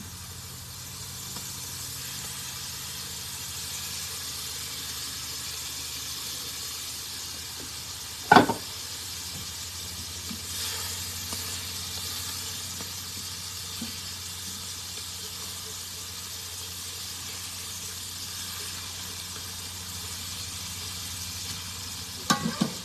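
Steady broadband sizzle of steaks searing in a hot frying pan, continuous throughout with one sharp clatter partway and a few knocks near the end.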